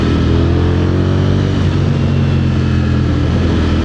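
A Ducati Streetfighter V4 SP super naked motorcycle engine runs loud and close, a steady rising rev that drops pitch and settles about halfway through, with wind rush over it and no talk.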